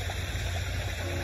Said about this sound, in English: it's a really pretty little pond, a nice little waterfall